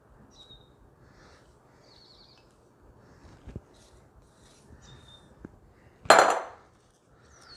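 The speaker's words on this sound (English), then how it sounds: "I'm going to actually use a spatula here, just so I can get it all." A spatula scrapes keto cheesecake crust around the bottom of a pan, mostly quiet with faint light clinks, then one short, loud, close scraping swipe near the end.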